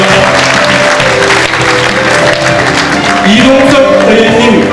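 Loud crowd clapping fills a political party convention hall, with steady applause under background music and hum, briefly dipping midway before swelling again.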